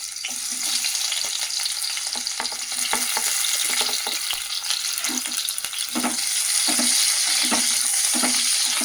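Peanuts and onion frying in oil in a pan for a veg biryani capsicum curry, a loud constant sizzle with repeated scraping stirs of a spoon throughout, close by and with no talking.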